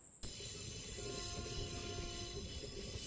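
A passenger train travels from Thenmalai to Sengottai, heard from on board as a loud continuous rumble of wheels on rails with a faint steady whine and a brief horn-like tone at the start.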